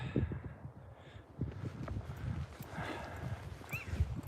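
Horses nearby in a windy forest in the Scottish Borders, with irregular hoof thuds and clopping, a snort or whinny-like sound, and a breezy outdoor background.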